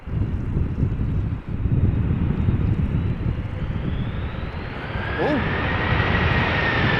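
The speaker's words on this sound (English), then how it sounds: "The A330 also arriving from Bonaire" An Airbus A330 arriving from Bonaire on approach at Amsterdam Schiphol in gusty crosswinds, a loud, continuous jet-engine roar with a rising whine toward the end, wind buffeting the microphone and a brief voiced exclamation.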